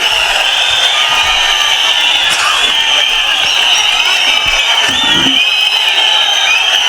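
A large crowd at a political public meeting in Murshidabad cheers and whoops, a bright sustained roar with scattered shouts, loud and continuous throughout.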